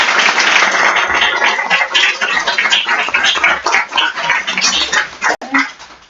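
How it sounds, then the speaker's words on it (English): A room applauds a presenter named Sarah at a social entrepreneurship event, brisk clapping from a modest audience lasting several seconds and tapering off. "give one quick round of applause again to Sarah"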